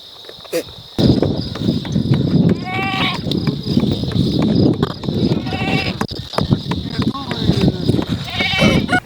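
A flock of sheep kept by nomadic shepherds bleats in repeated, wavering calls over steady outdoor noise and insect chirping, with people talking nearby.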